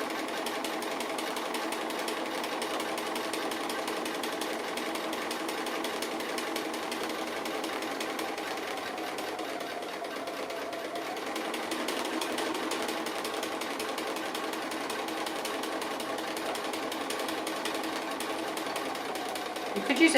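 A sewing machine stitching appliqué onto a single layer of fabric, heard as a continuous rapid needle chatter at an even pace, moderately quiet and close, running without pause.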